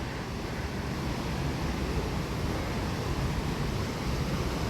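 A fast-flowing waterfall produces a steady, broad roar of rushing water, loud and unchanging throughout, with no voices.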